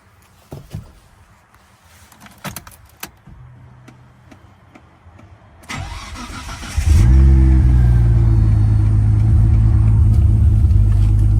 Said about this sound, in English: a cold start video we sent to the customer on a cold October day